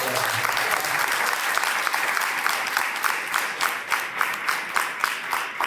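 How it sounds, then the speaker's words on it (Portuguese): Audience applause at a university closing ceremony in Paraty, dense and steady at first, then settling into a slower, more distinct rhythmic clapping toward the end, with no voices over it. "uma salva de palmas para ela."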